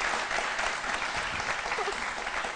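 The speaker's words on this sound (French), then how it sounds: "on applaudit très fort" Studio audience on a French TV talk show clapping loudly and continuously, a dense wash of many hands close in the room, with a voice faintly underneath.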